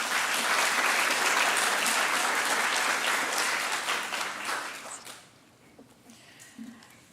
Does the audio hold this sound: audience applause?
yes